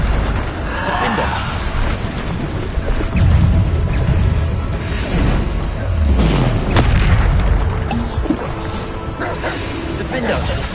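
In the Hogwarts Legacy video game, Bombarda spell explosions boom repeatedly amid loud combat effects and casting sounds, while a voice calls out spell names throughout.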